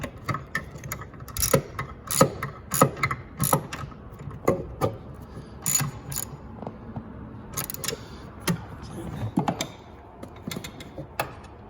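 A ratchet tightens 11 mm bolts on the quarter window of a 2005–2009 Ford Mustang convertible, giving repeated bursts of sharp clicking strokes with brief pauses between them, close and fairly loud throughout.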